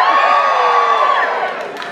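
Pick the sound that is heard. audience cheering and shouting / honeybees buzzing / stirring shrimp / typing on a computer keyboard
audience cheering and shouting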